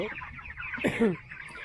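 A broiler chicken on a poultry farm gives a brief, close cluck over a quiet background.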